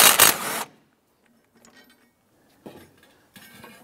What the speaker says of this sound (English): we're going to remove this mount bolt right here